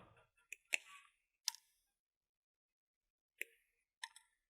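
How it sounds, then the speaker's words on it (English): Wire snips clipping the soldered legs off LEDs, a handful of sharp isolated clicks spaced irregularly against near silence, close by. "You can bring in some snips and just snip off these legs when they're done."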